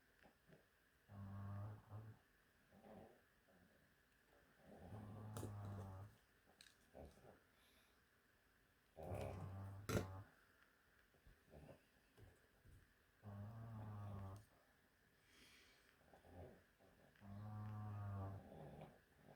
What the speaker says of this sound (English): That's a dog snoring, if you can hear anything.